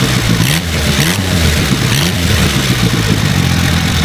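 An Indian Four motorcycle engine revs loudly and close, its rising and falling mechanical drone layered with a light clatter over about four seconds, with no speech.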